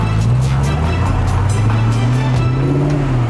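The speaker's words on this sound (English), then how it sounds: "God, I love the sound of that truck." An off-road truck's engine revs and labors up a steep hillclimb, a loud, deep, throaty drone with rising and falling pitch and rhythmic pulses, heard close and continuous.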